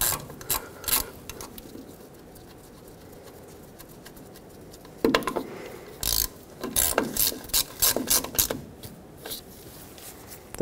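A ratchet tightens the small wheel cylinder bolts on a 1995-2004 Toyota Tacoma, giving bursts of close, rapid clicking separated by quiet pauses, with no talk.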